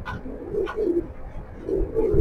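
Racing pigeons coo softly in a low, repeated throaty rhythm, several close murmured calls over a couple of seconds.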